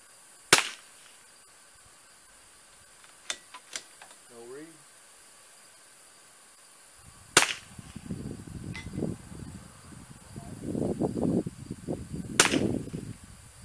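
Sharp, isolated cracks from a Rim-X .22LR rifle fired at a golf ball target roughly 246 yards away, three or four separate shots spaced seconds apart outdoors, with people talking in between.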